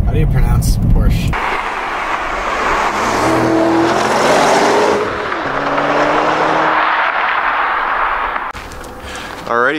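A 2011 Porsche Panamera Turbo engine roars loudly and close, rising and falling as it revs and accelerates, with a sharp burst at the start and end.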